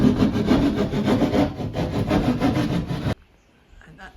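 A saw cutting through a wooden ceiling to open a hole for a wood heater flue, steady rapid rasping strokes close by that stop abruptly near the end, leaving quiet.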